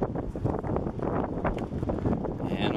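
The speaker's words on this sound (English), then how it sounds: "I'm sure you can hear the wind too" Strong wind gusts steadily across an exposed ski jump, buffeting the microphone in a loud, continuous roar with rising and falling bursts.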